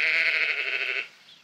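A single sheep lets out one long, loud, wavering bleat close by, holding steady for about a second before fading out, with no talking over it.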